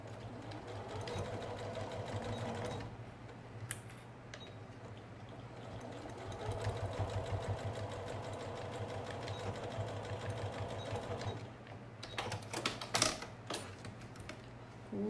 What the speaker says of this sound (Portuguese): E vamos passar a costura. Sempre bem esticadinho aqui para não formar prega do lado de fora